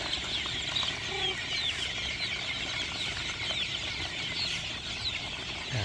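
A flock of young chickens kept by a breeder cluck and cheep together in a pen, with occasional bursts of wing flapping over a steady background murmur.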